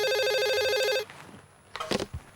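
A telephone rings loudly for about a second with a bright electronic trill, then stops, followed by quiet shuffling and a few soft footsteps nearby.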